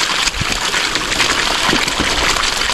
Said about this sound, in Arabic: الميه جايه من تحت الارض على طول، بس الميه دافيه.